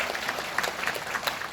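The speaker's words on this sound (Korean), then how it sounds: "다시 한번 박수 부탁드리겠습니다" Brief, steady clapping from a talk show audience during a question-and-answer session, moderately loud with scattered sharper claps and no talking.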